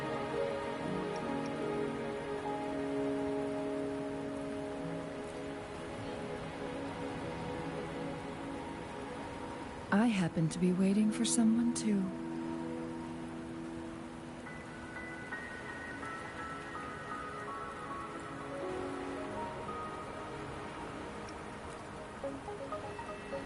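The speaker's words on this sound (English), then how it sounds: "Don't worry, the rain won't last much longer." Steady rain patters in the video game Wuthering Waves under soft sustained music, with a brief character line spoken midway.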